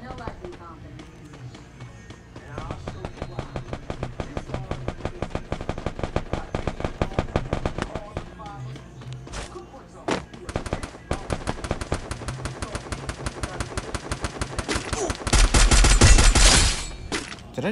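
Gunfire in the Free Fire video game cracks out in long, evenly spaced rapid strings of shots, ending in a louder dense burst near the end.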